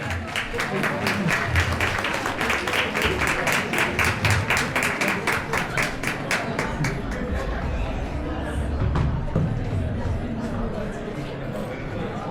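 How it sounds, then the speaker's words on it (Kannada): A crowd applauds the first prize winner at an Ugadi celebration, with dense, steady clapping for several seconds that then thins into scattered claps and murmuring voices. "And ಜೋರಾದ ಚಪ್ಪಾಳೆ ಫಸ್ಟ್ ಪ್ರೈಸ್ ವಿನ್ನರ್ಗೆ."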